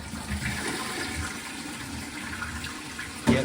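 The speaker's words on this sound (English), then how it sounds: "Yep, there's a big flush." A large toilet flush after the tank is refilled during a repair, a close, steady rush of water throughout with a sharper gush near the end, no voices.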